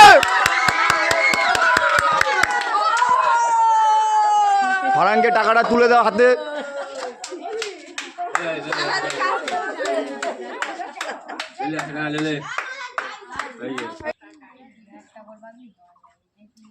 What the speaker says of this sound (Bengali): হাততালি দাও, হাততালি দাও সবাই।